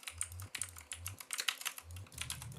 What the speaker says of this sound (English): Your keyboard sounds so much clickier than other videos of it